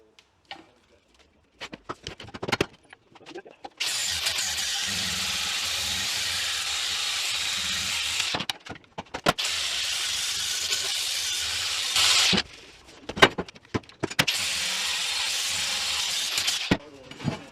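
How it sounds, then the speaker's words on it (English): Angle grinder fitted with a flap disc smoothing the edges of metal for a grinder pedestal stand, harsh hissing grinding in several sustained bursts separated by brief pauses and clicks. "Just going to get this flap disc and give it a bit better clean up"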